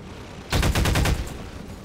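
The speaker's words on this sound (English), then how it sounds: "I guess I can try to shoot down this chopper" Gunfire aimed at a helicopter in Half-Life 2: Lost Coast cuts in as a sharp burst of about eight rapid shots, loud and close, then fades into a short tail.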